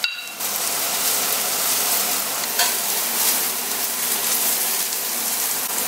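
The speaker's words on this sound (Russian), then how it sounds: "и шампиньоны тоже жарим" Loud, steady sizzling and crackling of button mushrooms frying in a hot pan, with a brief stirring scrape partway through; no talking.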